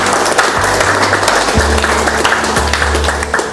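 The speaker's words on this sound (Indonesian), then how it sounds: "Tepuk tangan." An audience at a mental health care home in Pelabuhan Ratu claps steadily for a few seconds, close and fairly loud, with a low hum underneath.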